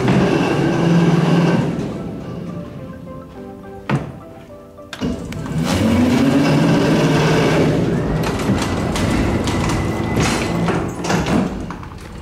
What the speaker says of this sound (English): let's take a ride on their freight elevator.